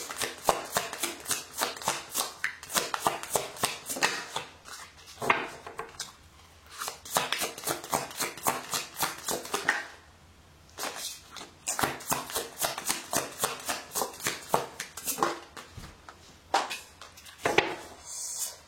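A tarot deck is shuffled by hand close up, rapid rhythmic riffling bursts of cards repeating in quick runs with a brief pause midway, quiet and without talk.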